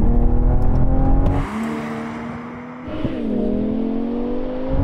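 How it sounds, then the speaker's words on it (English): A BMW M5 V10 Touring and a BMW M440i accelerate hard from 50 mph in a rolling drag race, both in comfort settings with automatic gearboxes. A loud, steady engine drone rises in pitch, falls briefly at a gearshift, then climbs again. No one speaks. "we're going for a rolling race from 50 miles an hour with the cars in their comfiest settings, automatic mode for the gearbox"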